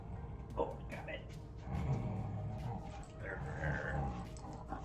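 A dog whimpering and growling softly through a steady background, with a person talking over the sounds.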